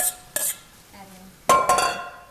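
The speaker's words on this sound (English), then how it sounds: "Let me stir this up really quick." Shredded cabbage for spring rolls is stirred in a pan: bright metallic clinks and scrapes of a utensil come in short bursts, with quieter gaps between them and a faint sizzle underneath.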